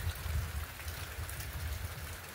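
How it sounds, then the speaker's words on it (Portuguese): Rain drums steadily on roof tiles during a heavy Sunday downpour over a rural plot, a dense continuous patter with a low rumble, close and even throughout with no talking. "Dá pra vocês perceber o barulho da telha aqui."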